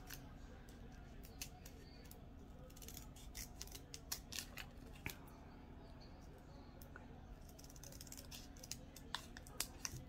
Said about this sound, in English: I don't want to cut through the whole paper because then it makes it hard just to get your label off